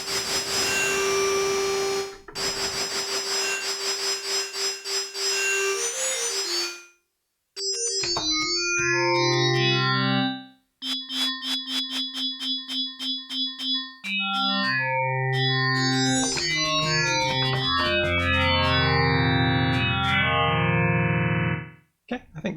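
A Novation Peak synthesizer plays its noise oscillator through a filter: a hissy, tone-laced wash fades out, then a run of bright, stepping synth notes follows, with brief gaps and later denser overlapping tones.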